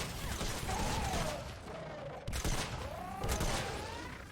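Blaster fire in Fortnite Save the World comes as dense rapid volleys of gunshots, loud and continuous, with a brief gap near the middle before the barrage resumes.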